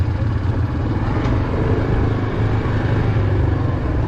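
A Land Rover Defender Octa drives off-road on Poison Spider Mesa in Moab, its engine a loud, steady rumble close by with a continuous low drone and rough, uneven texture throughout.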